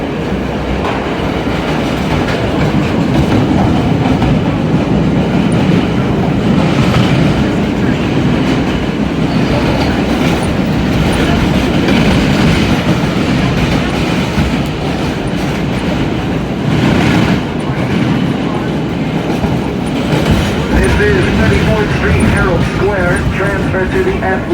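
A retired New York City R32 subway train rides the D line, a continuous loud rumble of wheels and rails with clickety-clack over joints and onboard announcements heard over the noise.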